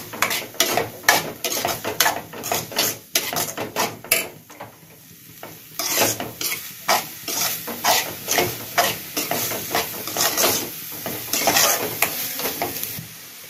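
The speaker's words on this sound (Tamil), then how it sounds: "தக்காளியும் நல்லா வதங்கணும்" Tomatoes sauté in a pan for egg curry, a spoon scraping and stirring in bursts of clattering strokes over a soft sizzle, close up with no voices.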